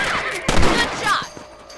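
Gunfire in the video game Red Dead Redemption during a rabbit hunt, with a burst of sharp shots in quick succession, loud and close, as game sounds continue behind.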